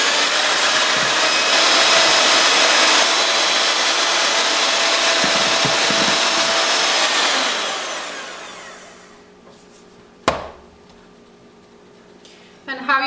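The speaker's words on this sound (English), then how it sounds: "Okay, I'm ready to mix the egg whites." An electric mixer beats egg whites for a cheesecake with a loud, steady whirring roar for about eight seconds, then winds down to quiet, followed by a sharp clack and a few small knocks.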